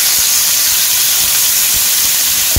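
Thin beef steaks hitting a hot pan, a loud, steady, broad hiss of sizzling fat filling the whole stretch, close up, with faint soft bumps underneath.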